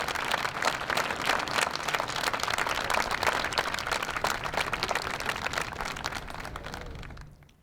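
Audience at a Veterans Day ceremony gives veterans a big round of applause, loud dense clapping that holds steady for several seconds before fading out at the end.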